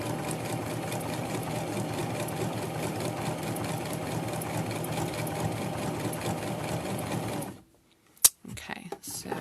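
A sewing machine stitching appliqué fabric runs steadily with a fast rhythmic hum, then stops, followed by a sharp click and faint handling sounds.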